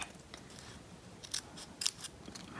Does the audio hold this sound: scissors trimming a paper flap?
yes